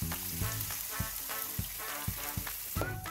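Chopped spinach and beaten egg fry in a hot pan with a bright, crackling sizzle close up, punctuated by regular bursts of louder spitting.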